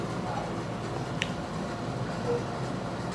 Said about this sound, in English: That's the AC.